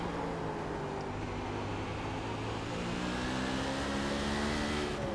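Sprint car engines race in the iRacing simulation at Southern National, a steady, dense drone of several engines holding close and loud throughout, with layered pitches rising slightly toward the end and no talking.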